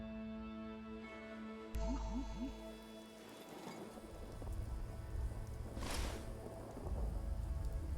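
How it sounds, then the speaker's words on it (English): Rain and thunder in Fallout 76 make a steady wash of rainfall with a deep rumble rolling in midway, mixed with game effects and brief rising tones. "Oh, it's raining."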